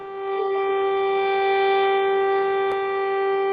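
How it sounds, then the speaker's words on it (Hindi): A sustained air raid siren in a Ukrainian village wails steadily and loudly, a single continuous tone with no talking. "3 बार सायरन बज चुका है कुछ ही मिनटों में"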